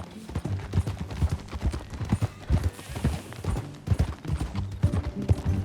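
Horse hooves clip-clop in Red Dead Redemption 2, a steady rhythmic trot of several horses close by, mixed with low game ambience and faint background noise.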